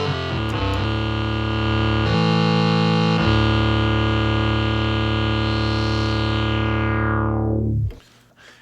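A Moog Minitaur analog synthesizer holds one sustained, buzzy, harmonic-rich tone for about eight seconds. Its filter and resonance shift the timbre in the middle of the note before it cuts off abruptly, loud and alone.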